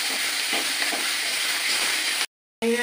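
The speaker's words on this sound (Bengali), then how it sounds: "কাঁচা গন্ধ যতক্ষণ না যায় আদা রসুনে, ততক্ষণ আমি এটাকে ভালো করে কষিয়ে নেব।" Ginger and garlic paste sautés in oil in a pan with a constant close frying hiss and faint stirring, then a brief cut to silence and a short return of sizzling.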